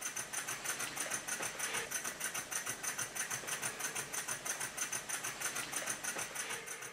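A Stuart 10V model steam engine runs slowly and very quietly, giving a soft, steady mechanical ticking that repeats at an even rhythm throughout, faint and close with no voices.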